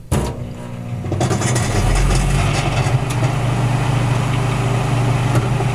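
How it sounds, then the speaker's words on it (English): A hotel room microwave oven runs with a steady low hum and drone, a little rough, starting after a brief click and continuing evenly and close by with no talk. "A microwave here."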